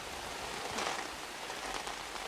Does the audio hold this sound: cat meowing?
no